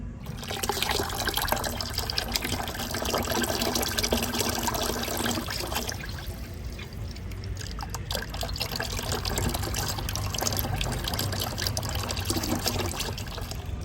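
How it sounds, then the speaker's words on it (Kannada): Rice-washing water trickles and splashes as it is poured and stirred into a liquid plant fertilizer, a continuous close liquid sloshing with small drips. "ಇದಕ್ಕೆ ಈಗ ನಾನು ನೀರನ್ನು ಮಿಕ್ಸ್ ಮಾಡ್ಕೊಳ್ತೀನಿ"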